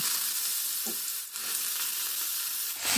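Potatoes frying in oil and being stirred in a pan, a continuous close sizzle with a couple of brief scraping stirs.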